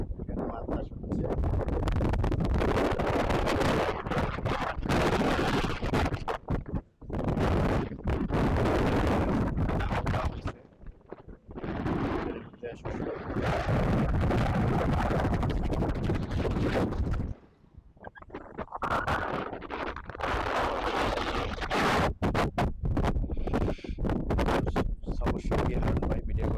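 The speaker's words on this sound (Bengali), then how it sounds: "এখানে বাতাস হচ্ছে।" Strong wind by a riverbank, loud buffeting roar across the microphone in long sustained gusts with brief lulls, someone talking intermittently beneath the rush.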